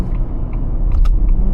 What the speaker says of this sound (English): Really good sounding exhaust, probably one of the best V6s I think I've ever heard